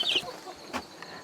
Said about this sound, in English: There's our new chickens.